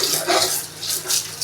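Muddy tapioca (kappa) pieces dipped and swished in a bowl of water at home, giving gentle pulsing splashes and trickling that rise and fall close by, with no speech.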